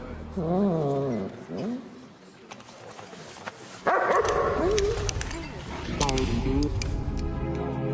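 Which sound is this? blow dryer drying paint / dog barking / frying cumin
dog barking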